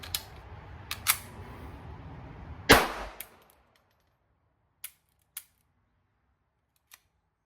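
Sharp single gunshots from a Walther P22Q .22LR pistol during ammo testing: a loud crack near three seconds after softer earlier reports, then three faint, widely spaced pops, with no talk.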